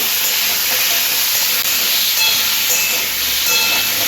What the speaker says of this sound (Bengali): কুমড়োগুলো এইভাবে নাড়াচাড়া করে একটু ভাজা ভাজা করে নেব